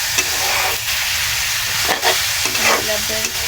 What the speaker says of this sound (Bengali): আলুটা একটু আগে ভেজে নেব